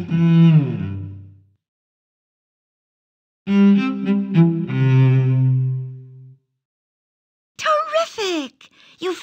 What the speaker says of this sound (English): You found the cello.